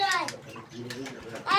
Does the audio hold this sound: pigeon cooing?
yes